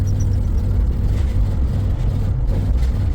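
A camper van engine labours uphill in third gear, starved of fuel: a loud, continuous low rumble with a rough, uneven drone and no speech.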